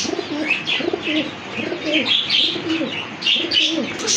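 Pigeons coo repeatedly in soft, rolling phrases, several birds close by at a pigeon farm, with occasional chirps mixed in.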